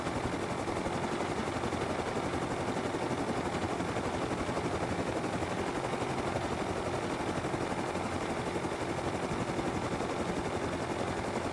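A helicopter in the survival video game Rust flies with a steady, loud, continuous rotor and engine roar that fills the whole stretch. No one speaks.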